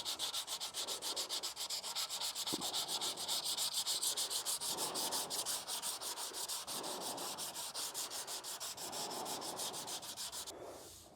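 Flat sanding block worked rapidly over body filler on a 1935 Packard panel, feathering hard edges with a dense, continuous rhythmic scrubbing that stays close and fairly loud throughout.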